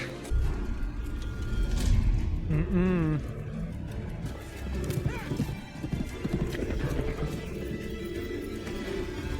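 Horses in a TV drama scene: steady clip-clop hooves with a sharp neigh partway through, under dialogue and dramatic sound.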